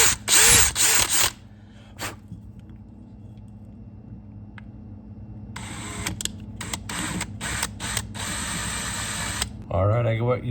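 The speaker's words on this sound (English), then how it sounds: "I'm gonna drill down until I feel the tension on the liner when I hit the liner." Short bursts of a small power drill whirring through an old tadpole case, separated by quieter stretches with faint handling noise.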